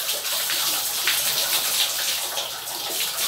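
Water running over hair during a rinse at home, a steady bright hiss of flowing water with no pauses, close and moderately loud.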